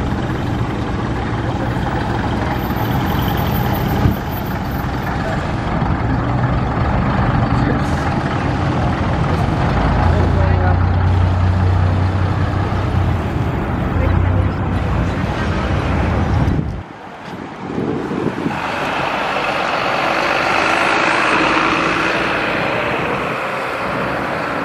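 Vintage cars drive through Paris during the Traversée de Paris vintage vehicle event, their steady engine rumble and traffic noise continuous and fairly loud, dipping briefly near the end before resuming.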